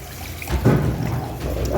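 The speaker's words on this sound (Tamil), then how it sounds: "இது தண்ணியை ஊற்றிடும்." Water poured into a pot of village-style pepper rasam makes a continuous close splashing trickle that swells midway and then settles into a steady pour.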